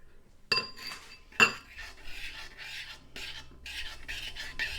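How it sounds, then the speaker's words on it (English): A spoon stirs Aldi instant oats in a bowl, giving a few sharp clinks against the side followed by soft scraping, rasping strokes, close by and with no talking. "Right, Aldi says stir halfway through. It's halfway, so I'm going to stir it."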